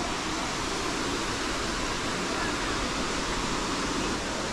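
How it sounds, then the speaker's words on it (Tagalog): Waterfall in Nagtipunan, Quirino, a steady broadband roar of falling water, constant and fairly loud throughout with no break. "Naririnig na namin yung falls"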